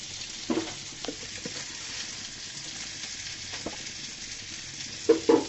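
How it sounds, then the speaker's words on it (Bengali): Pieces of rui fish deep frying in oil give a steady sizzle, with a few light utensil clinks and stirring knocks, heard close and alone. "সমস্ত মাছ আমার ভাজা হয়ে গিয়েছে।"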